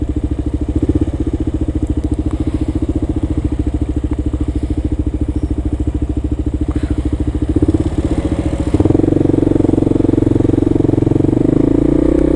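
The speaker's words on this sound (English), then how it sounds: "But that's a roadworthy bike. That's I think that's a 150 cc if I'm not mistaken." A four-stroke 150 cc motorbike rides a New York City street, its engine chugging with a steady, close, throbbing note that turns rougher and louder near the end.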